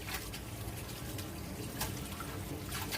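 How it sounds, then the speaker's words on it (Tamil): Spinach greens are swished and rinsed in salted water by hand in a home kitchen, producing soft continuous sloshing and splashing with a few sharper splashes, fairly quiet and without talking. "கீரையை வெள்ளனையாகவே ஆஞ்சி வச்சிட்டதுனால உப்பு தண்ணி போட்டு கொஞ்சம் அலசுறாங்க"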